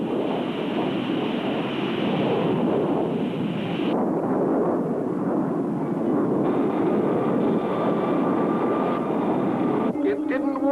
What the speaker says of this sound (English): I'm firing retro rockets.